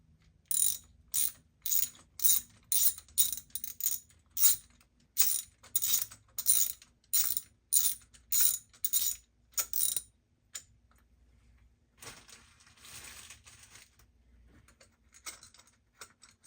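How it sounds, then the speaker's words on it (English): Spark plug socket ratchet loosening the spark plugs on a 2023 Porsche Macan 2.0L Turbo, about a dozen sharp, evenly spaced clicking strokes, close and alone, then quiet handling noises. "Now using 5/8 spark plug socket and extension,"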